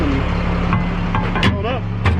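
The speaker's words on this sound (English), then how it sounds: "started to fire that truck up so it's building air and staying warm" A work truck, readied for a small culvert job, runs at idle after being started, building air pressure; a steady close engine rumble with faint hiss and mechanical sounds over the short stretch.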